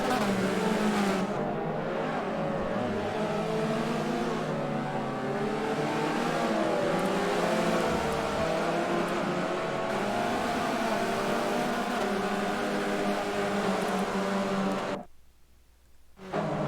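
Race cars in the Forza video game on a London circuit roar continuously at close range, engines revving and shifting in a dense layered drone that drops away abruptly near the end.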